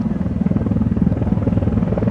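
A Hind helicopter painted in tiger colours thunders past with a loud, heavy rhythmic rotor thump and a deep engine drone, steady and close throughout.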